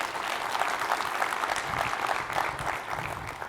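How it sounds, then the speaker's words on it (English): Conference audience at a space industry congress claps steadily for a few seconds, a dense, even patter of many hands filling the room with a faint murmur underneath. "please give them a round of applause"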